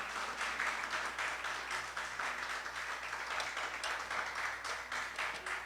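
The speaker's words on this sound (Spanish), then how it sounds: "Pues dale un aplauso entonces." A church congregation at an evening worship service gives a steady, even round of applause, a continuous wash of many hands clapping at moderate, fairly distant volume.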